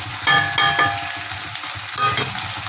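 Ground turmeric, cumin, coriander and Kashmiri chilli with salt sizzling in hot oil for a koi fish curry, loud and close, with a few spoon scrapes against the pan.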